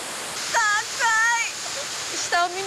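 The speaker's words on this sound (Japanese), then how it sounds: "すごい滝が。" A waterfall in a lush Slovak forest pours as a constant, rushing hiss, with voices speaking briefly over the roar.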